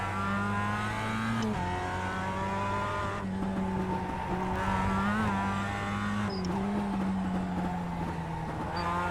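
A Mazda MX-5 Cup race car laps Summit Point Raceway's Jefferson Circuit in the iRacing sim. Its engine drones loudly and without a break, climbing through the revs and dropping at each gear change, with bursts of tire squeal in the corners.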